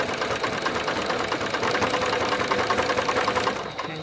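A sewing machine runs continuously for a few seconds, joining quilt blocks with a steady, close, rapid mechanical chatter and no talking.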